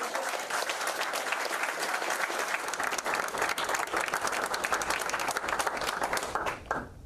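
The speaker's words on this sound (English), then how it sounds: "And just one more round of applause for your 2022 Portsmouth High School College." An audience at a high school senior athlete commitment day ceremony applauds loudly and steadily, a dense wash of many hands clapping that holds for several seconds before tapering slightly at the end.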